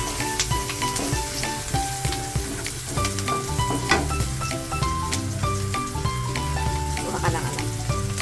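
Squid frying in a pan for adobong pusit gives a steady, close crackling sizzle with scattered pops, running continuously over faint background music.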